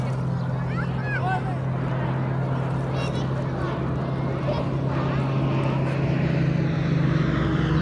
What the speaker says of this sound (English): we heard the drone of plane engines overhead and looked up to see some firefighting planes practicing their runs and accuracy